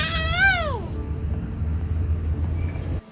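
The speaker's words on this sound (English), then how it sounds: "I thought the cat was gonna bite her." A cat gives one loud, close meow that rises and falls, then trails off into low background rumble with faint chatter.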